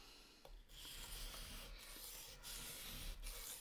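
A Japanese Miyabi knife is sharpened on a 400-grit whetstone, giving a continuous, faint, gritty rasp of steel rubbing on stone with a few brief pauses as the strokes change. Nobody talks.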